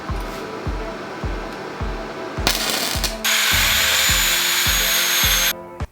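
A power tool sands down welded end caps on round steel pipe for a custom motorcycle build, starting with repeated rhythmic scraping passes, then swelling into a loud continuous whine that cuts off near the end.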